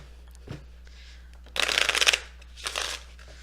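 A deck of tarot cards is riffle-shuffled twice, a crisp fluttering burst followed by a shorter second one, close and clear against a quiet background.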